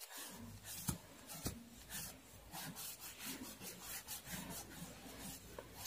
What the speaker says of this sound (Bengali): এবার তুমি একটু হাতে করে এরকম ঘষেও দিতে পারো